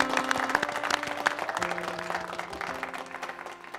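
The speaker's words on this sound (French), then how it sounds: "Applaudissements pour nos deux beautés, s'il vous plaît." Applause from a pageant audience for two beauty contestants at Miss RDCongo, a steady patter of moderate clapping that holds under a tonal music bed for several seconds.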